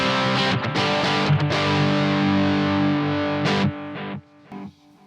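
An electric guitar plays through an amp's vintage channel with the effects loop in the chain, a loud sustained distorted chord ringing for several seconds, with a few re-struck attacks before it is choked off and fades.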